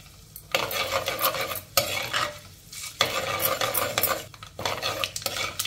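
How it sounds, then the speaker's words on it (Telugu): Mustard seeds, urad dal, chana dal and cumin fry in hot oil for a tempering while a spoon stirs and scrapes the pan in repeated bursts over a low sizzle, with brief pauses between strokes. "పోపు దినుసులు వేగాయండి"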